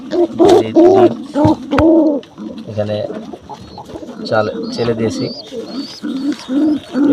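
Lalbag-generation Gribash pigeons coo in low repeated calls close by, mixed with someone talking over them throughout.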